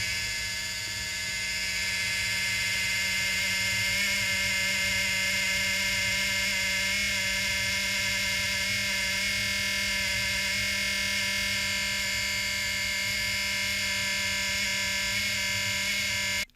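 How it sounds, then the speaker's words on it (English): Steady electronic hum and whine from a damaged W5 mini PC stick with an Intel Atom Z8350, continuous and unchanging with layered tonal buzz, loud and close throughout with no talking. "It does emanate a sound, like there's like a loud hum to it."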